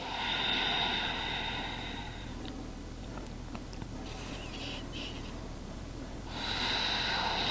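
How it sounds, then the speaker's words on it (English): Deep yoga breathing comes through close and breathy: a long, full breath, a quiet pause, then another deep breath beginning near the end. "Taking fuller and deeper breaths."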